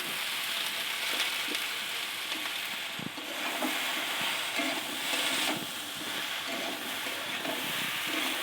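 Turmeric powder and spices frying in hot oil with salt, a steady loud sizzle and hiss running throughout, with occasional soft stirring scrapes.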